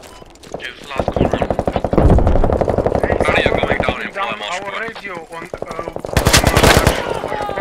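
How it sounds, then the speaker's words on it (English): Rapid automatic gunfire rattles loudly and almost without pause in the Squad military shooter, bursts stacking over one another, with voices talking through most of it. "I can hear them shooting."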